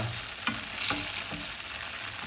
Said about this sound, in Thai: ทอดเต้าหู้ให้กรอบหน่อย